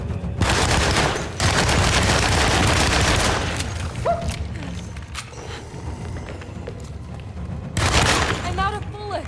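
Video game gunfire, dense loud bursts of rapid automatic shots in two long stretches with a quieter pause between, while voices talk over the action.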